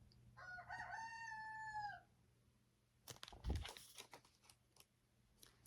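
A rooster crows once outdoors, a clear drawn-out call at moderate distance, followed by a few seconds of scattered clattering and rustling noises.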